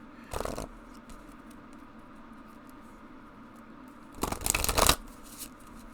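Two short bursts of oracle cards being shuffled, riffling quickly near the start and again near the end, with quiet room tone between.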